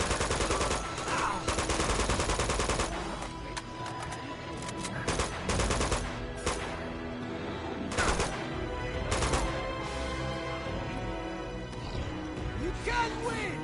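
Heavy gunfire in the Uncharted 2 video game, dense automatic bursts and rapid fusillades crackling continuously and loudly throughout, with brief pauses between volleys.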